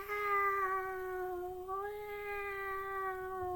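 A person imitates a cat meowing, a drawn-out sustained nasal meow with a slight pitch rise partway through, heard alone and fairly faint.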